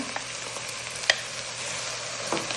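Ground meat and tomato stirred in a frying pan, a steady close sizzle broken by a few sharp scraping strokes and a utensil tap, no voices.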